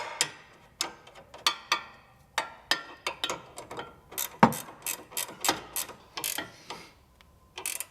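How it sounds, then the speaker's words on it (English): A ratcheting wrench clicks in short bursts of rapid ticks during a Honda Ridgeline suspension lift near the brake rotor, each stroke sharp and close, with brief pauses between pulls. "Thank goodness this ratcheting wrench isn't messed up"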